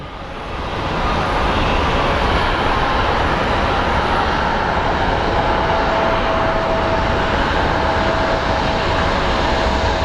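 An airplane landing at Phoenix Sky Harbor International Airport, a steady loud engine roar that swells in the first second and holds as a broad continuous rumble with a faint whine, heard from a distance outdoors.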